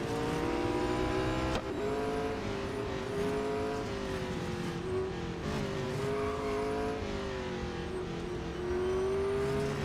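Race cars in the Real Racing 3 video game, engines droning and revving continuously with pitch rising and falling as cars overtake, loud and steady with no talk.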